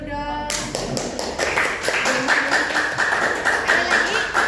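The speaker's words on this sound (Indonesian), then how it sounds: "Kasih tepuk tangan dulu dong" A class audience at a school debate breaks into clapping after a brief voice, giving a quick, fairly loud run of claps with rapid taps in an uneven rhythm and some talking mixed in.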